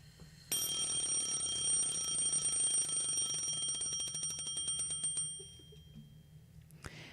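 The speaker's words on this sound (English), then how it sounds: "The alarm clock is making a terrible racket." An alarm clock rings loudly and continuously for about five seconds with a shrill, rapid metallic trill, then cuts off, leaving quiet room tone and a small knock at the end.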